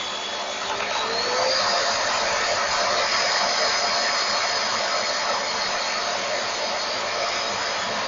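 An electric motor runs on a bench supply under a clamp-meter test, a steady high-pitched whine with a bright tone rising slightly at the start, holding constant and close with no talk.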